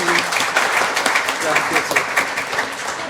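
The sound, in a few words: wedding guests applauding the newly married couple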